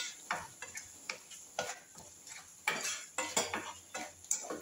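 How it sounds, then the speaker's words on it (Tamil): A spatula scrapes and clinks against a kadai as masala is stirred and sautéed for paneer kadai, with irregular metallic taps and scrapes, close and fairly quiet. "இப்போ நல்லா வதக்கிக்கலாம் அந்த மசாலாவை."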